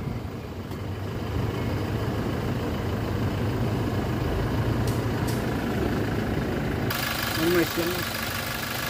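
A Toyota Innova E engine idles smoothly without shaking, a steady, even low rumble throughout, while a voice talks over it.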